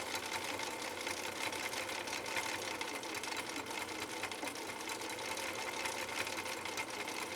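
A 1960s Husqvarna Viking 6440 sewing machine runs slowly and laboriously while stitching a heart pattern, a steady close mechanical whir with rapid needle chatter that continues unbroken throughout.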